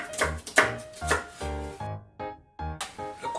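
A knife chops half a shallot finely on a board for an Italian charcuterie salad, giving close, crisp, irregular taps in quick bursts with short pauses.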